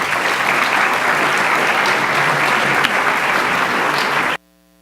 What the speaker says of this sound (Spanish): os integrantes do grupo, que nós vamos receber com uma salva de palmas